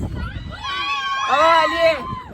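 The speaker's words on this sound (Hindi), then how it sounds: "क्योंकि वो लोग ज्यादा से चीख रहे थे" Screams from riders on an amusement park ride at Fatima Jinnah Park in Quetta, a long high shriek swelling in the middle, with people talking nearby.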